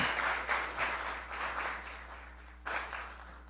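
Sustained round of applause in a municipal council plenary session, a dense, even clapping that eases slightly and then surges again near the end.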